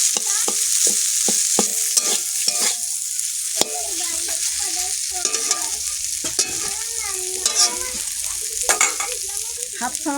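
Potatoes and spices frying in a pan for a potato dal, a bright hiss and sizzle with brisk stirring and clinks of a utensil, loud and up close.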